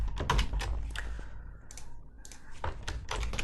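Fast, close clatter of computer keyboard keys as a WordPress install form is filled in, typed in bursts with a brief pause in the middle.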